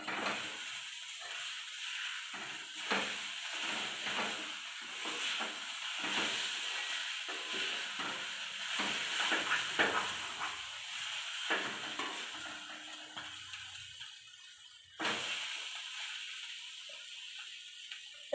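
Thoran cooks in a pan with curry leaves, giving a steady hiss and sizzle of steam with occasional soft stirring scrapes, moderately close and without talk.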